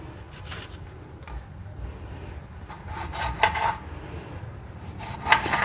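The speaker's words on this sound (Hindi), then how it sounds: "अभी मैं टमाटरों की कटिंग कर लेती हूँ। 4 पीस आपने कर लेने हैं।" A knife cuts tomatoes into quarters on a board in a home kitchen, giving scattered soft chops and scraping taps with a few sharper clicks, fairly quiet and close, with no talking.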